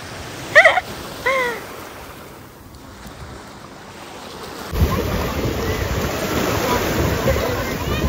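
Ocean surf on a beach: a quiet stretch with a couple of faint cries gives way to a loud, steady wash of breaking waves and wind buffeting the microphone.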